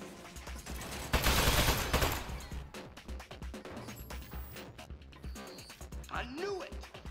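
Turret gunfire in the video game Aperture Desk Job: a dense, loud burst of rapid shots followed by continuing clattering fire and game effects, with talking over it.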